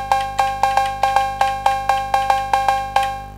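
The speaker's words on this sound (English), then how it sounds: "Next up, we've got the cowbells." An Elektron Syntakt drum machine sounds its classic cowbell preset, a bright, metallic analog clank repeated about a dozen times in a quick, steady syncopated pattern, up front and with nothing else playing.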